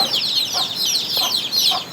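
Soft clucking and high peeping from a native-breed hen and her chicks, a steady chorus of chirps close by with no voices.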